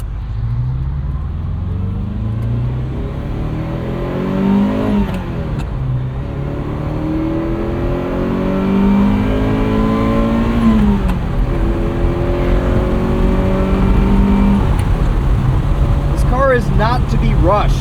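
A 1980 Ferrari 308 GTBi with a gated 5-speed gearbox is driven close up, its engine note climbing steadily under load, then dropping at each gear change and climbing again, with someone talking over the cabin sound.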